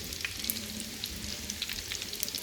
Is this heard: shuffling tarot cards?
no